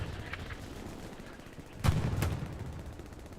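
Gunfire during a competitive online match of the World War II shooter Hell Let Loose: a couple of sharp distant rifle cracks amid low battlefield rumble, with one heavier report standing out.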